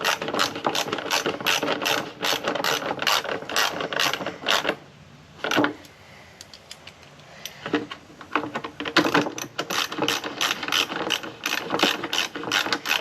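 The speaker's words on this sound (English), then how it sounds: "this is just going to be getting these new screws tightened down" New screws being tightened down on a Fox Body Mustang clutch fan shroud with a ratchet, rapid loud clicking bursts close by, a quieter pause in the middle, then fast ratcheting resumes.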